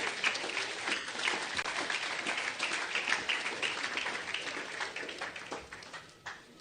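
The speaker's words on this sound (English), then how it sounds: "our parents and guardians receive our sincere, sustained, and resounding applause" Sustained, loud applause fills a graduation ceremony hall as the class of 2026 audience honors parents and guardians, a steady dense roar of clapping from a large crowd that tapers slightly near the end.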